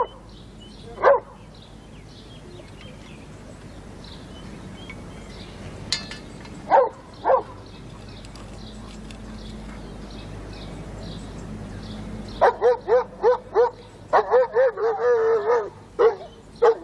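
Puppies in a garden bark and yip, first in scattered single yaps, then in a rapid excited flurry of high barks toward the end, moderately close.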